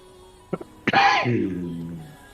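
A short intake of breath followed by a single loud sneeze that trails off into a drawn-out, fading vocal tail.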